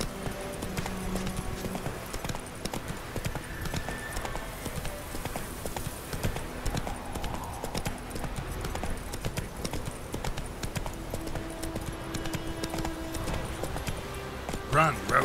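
A horse gallops in The Witcher 3: Wild Hunt, its rapid, continuous hoofbeats clattering up close, with voices talking over the running.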